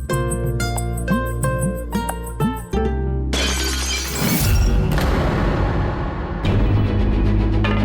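Glass shatters in a sharp, loud crash with a bright burst of breaking shards, rising out of dramatic music in a Hindi TV drama household scene.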